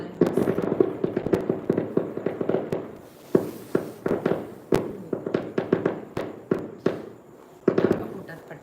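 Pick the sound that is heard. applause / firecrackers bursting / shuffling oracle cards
firecrackers bursting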